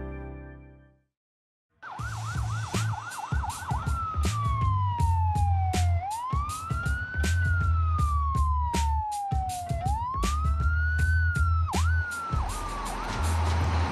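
A wailing ambulance siren sweeps up and down repeatedly, loud and close, over a rumbling vehicle engine after a brief silence at the start, at a fire and EMS scene in Prince George's County, Maryland.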